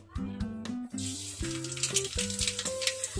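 Crackling sizzle of mustard seeds popping in hot oil, a bright continuous fizz beneath a sustained musical tone in the background.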